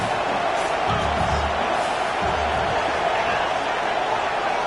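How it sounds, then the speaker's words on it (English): Stadium crowd at a Clemson college football game roaring steadily, a dense, loud wall of cheering noise with faint thuds, sustained without a break. "with this place rocking, the crowd forces a false start"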